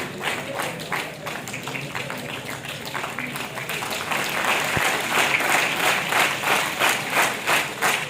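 An audience applauds at a police ceremony marking the close of traffic month in Basti, with sustained, dense clapping from a crowd that grows louder partway through and keeps a steady pulsing rhythm.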